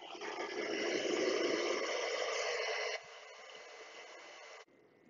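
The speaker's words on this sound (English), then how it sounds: "It will just cool down because of the ventilator." Cooling fan of a Riden RD6018 1200 W bench power supply whirring steadily and fairly loud, then dropping to a lower, quieter speed, then switching to near silence.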